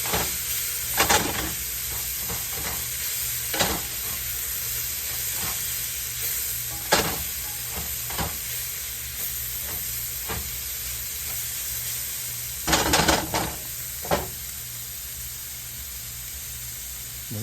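Oyster mushrooms sizzle in a pan with a steady, close hiss. Scraping stir strokes break in at intervals, with several clustered bursts of stirring.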